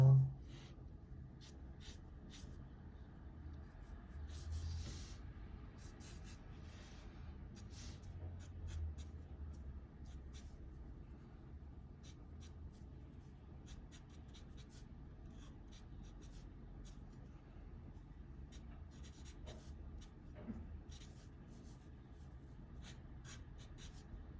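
A pen scratching and shading on paper while drawing and coloring in black, soft continuous scribbling strokes, faint and close, with occasional light taps and brief quiet talk.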